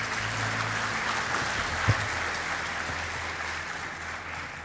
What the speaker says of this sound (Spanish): Les pido entonces un aplauso para don Jorge Quirós.